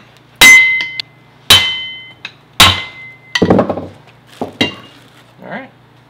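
A hammer strikes all-metal Channellock screwdrivers in a garage where an open differential is being worked on, giving about eight sharp, ringing metallic clanks spaced irregularly, loud and close with nothing else heard.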